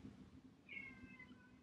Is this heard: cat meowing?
yes